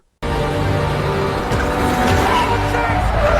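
Racing cars in an F1 film skid and squeal off the track, a sudden loud burst of tyre screech and engine roar that starts abruptly and stays dense and continuous.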